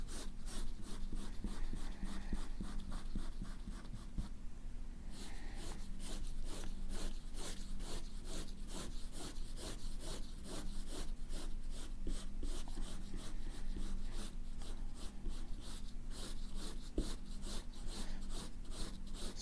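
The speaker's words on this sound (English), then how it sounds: "So I'm using my pencil, the side of the pencil, to fill in the background." The side of a pencil shades paper in a fast, regular back-and-forth scratching, close and quiet, with one brief pause partway through.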